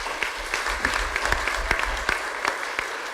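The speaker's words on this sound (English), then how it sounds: "big round of applause for everybody." Audience applause after the pitches at a regional innovation finals, a steady close patter of many hands clapping with no voices over it.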